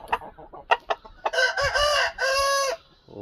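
A native fighting rooster on a village country-chicken farm gives a string of short, sharp clucks, then a loud, drawn-out crow in two long bursts, close by and clear with no talking.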